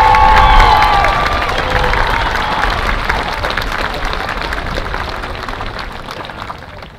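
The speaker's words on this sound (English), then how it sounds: "Let's have a round of applause for what these students were able to accomplish in these past 3 years." A large crowd at an 8th grade promotion ceremony applauds and cheers for the graduating students, loud and continuous, with whoops and whistles early on, slowly tapering over seven seconds.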